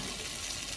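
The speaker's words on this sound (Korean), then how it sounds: "물을 넣어주세요." Water pouring into a pot of gochujang stew ingredients, a brief steady rushing splash, close and even, with no voices.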